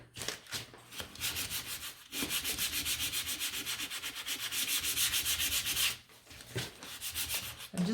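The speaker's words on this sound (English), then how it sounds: "So I'm going to give it a sand" Hand sanding a painted wooden gnome: close, rhythmic back-and-forth scratchy strokes in quick repeated passes, pausing briefly before resuming.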